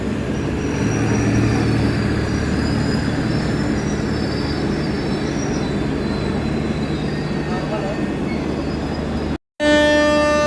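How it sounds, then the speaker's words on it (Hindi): An express train on the Godda–Rajendra Nagar Terminal route, hauled by a WAP5 locomotive, thunders past during a crossing at Abhaypur railway station, with a loud steady roar of wheels and carriages that cuts off abruptly near the end. "हमारी ट्रेन से अभी क्रॉसिंग होने वाली है गोड्डा राजेंद्र नगर टर्मिनल एक्सप्रेस से"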